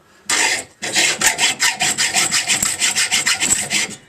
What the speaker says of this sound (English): It's better using a hacksaw. Just literally cutting that weld away